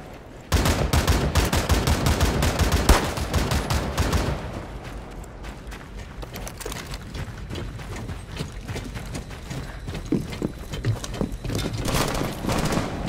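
Rapid bursts of gunfire from the tactical shooter Rainbow Six Siege on PC, loud and dense for the first few seconds, then thinning into scattered, quieter shots and clatter.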